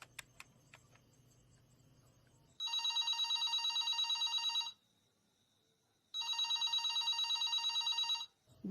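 A telephone rings unanswered in two long bursts of bright electronic trilling, with a silent gap between them and a quiet room murmur before the first ring.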